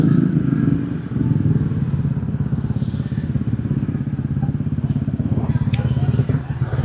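Motorcycle riding at night from Parung toward Jakarta via Tajur Halang, Bogor, a steady close engine drone with rhythmic pulsing and wind rumble, holding an even pace throughout.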